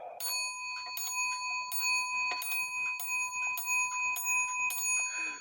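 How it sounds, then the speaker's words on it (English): A vintage Clayton Froehlich shield clock with an Urgos movement strikes its bell about eight times in an even, ringing sequence, each clear metallic note overlapping the fading one before, close and alone with no talking. "strikes on a bell."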